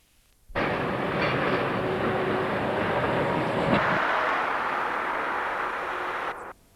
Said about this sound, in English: A loaded train from the ore stockpile passes West Junction and then the junction to the Mineral Quay, destination Scunthorpe